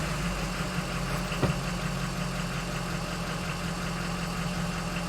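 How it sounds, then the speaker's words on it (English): A Ford E450 van's 6.0L engine with a water-in-fuel warning idles steadily and close by, a continuous low rumble with one brief knock partway through. "So let's start the engine and see what happens."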